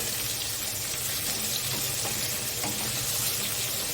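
Vegetables such as ridge gourd frying in a pan for a Bengali pui shak dish with fish head, giving a continuous close, even sizzle with no talking.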